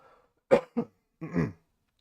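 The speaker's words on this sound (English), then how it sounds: "I'm going to cough here in a second." An adult man coughs indoors: two short, sharp coughs in quick succession, then a longer, rougher cough after a brief pause, close and clear against near silence.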